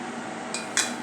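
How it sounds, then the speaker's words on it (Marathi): Two quick hard clinks ring out as a mixer jar is handled and set down in a kitchen while making kesar pista lassi, brief and fairly close against a quiet background. "आता आपण मिक्सरचे जार घेऊया."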